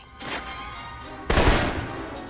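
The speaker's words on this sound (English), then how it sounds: "For long-range encounters, the assault rifle's the key." Two loud bursts of assault rifle fire in the video game Alpha Protocol, a short volley followed by a heavier, closer blast a second later, ringing out with no talk.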